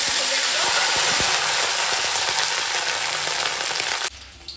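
Washed cauliflower pieces sizzle and crackle loudly in hot oil in a home kitchen pan, a continuous dense fry with a few clinks and stirring taps, then the sizzle drops away abruptly near the end.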